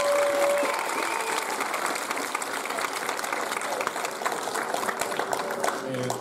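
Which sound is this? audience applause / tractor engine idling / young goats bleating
audience applause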